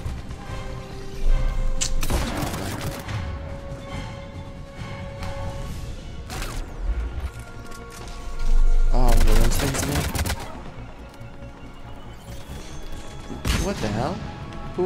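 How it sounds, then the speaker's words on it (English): Gunfire in the video game Mass Effect 3 during a mission to rescue the Turian Primarch, with bursts of weapon shots and impacts at intervals over a busy game soundtrack of rumbles and effects. "He's shooting at me."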